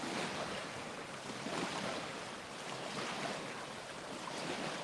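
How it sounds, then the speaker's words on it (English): Boat wake waves wash against the shore of the Fox River, a steady rushing, churning water sound with some wind noise, close to the microphone and without speech. "You probably hear those waves hitting."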